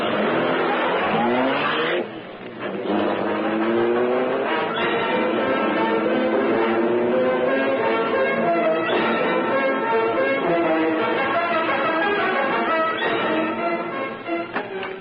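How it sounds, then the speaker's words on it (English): A powerful car engine roars into life and accelerates away as a radio drama sound effect, loud and continuous with rising revs, layered with dense tonal sound throughout. "The great car roared into life."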